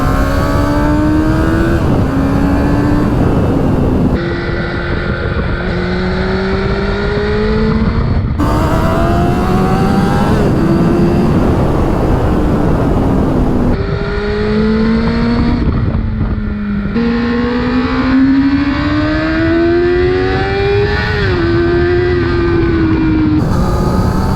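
A 2002 Kawasaki Ninja 636 sport motorcycle ridden through curves on an open road, its engine loud and close, revving up and down through gear changes with a steady roar of wind, and no talking.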